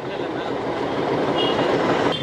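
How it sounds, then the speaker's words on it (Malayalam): Nilgiri Mountain Railway train standing at a station while a diesel engine and an extra carriage are coupled on, giving a steady rumbling mechanical drone with faint squeals and people talking nearby throughout. "ആ ഡീസൽ എഞ്ചിനും എക്സ്ട്രാ ഒരു ബോഗിയും കൂടി ഇതിൽ അഡീഷണൽ ആഡ് ചെയ്ത് കൊടുക്കുകയാണ്"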